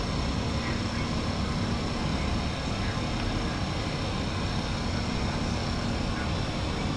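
Airbus A321 engines in a flight simulator game climbing after takeoff, a steady, dense roar with a faint whine that holds level throughout, with no pauses or speech over it.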